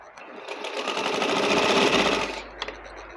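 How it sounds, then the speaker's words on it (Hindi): Close, steady whirring of a sewing machine stitching around a garment neckline, rising to full speed then slowing and stopping with a small click at the end. "अब यहाँ से मैं इस तरह से सारे गले पर इस तरह सिलाई लगा दूंगी।"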